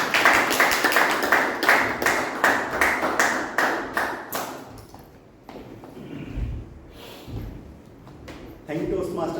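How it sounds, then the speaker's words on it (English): An audience at a Toastmasters club meeting breaks into a big round of loud, steady applause that fades out about halfway through, followed by a few scattered claps, a short stretch of quiet and then a voice speaking. "Let's have a big round of applause for the general evaluator"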